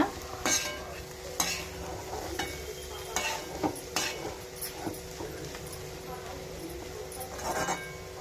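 Garlic curry is stirred in an iron kadai over low heat, a spatula scraping and clinking against the metal in a steady rhythm over a faint sizzle, close and clear.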